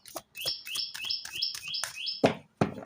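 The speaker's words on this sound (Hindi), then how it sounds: "मेरे बैकग्राउंड में प्यारी सी चिड़िया बोल रही है" A small bird chirps in the background in a quick run of repeated bright tweets, followed by a couple of softer calls, with no talking.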